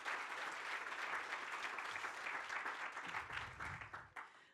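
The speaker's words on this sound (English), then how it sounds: "So round of applause for Mark and Vicky." Audience applause at a closing keynote for a tech conference, with steady dense clapping from a large crowd that holds throughout and then tapers off near the end.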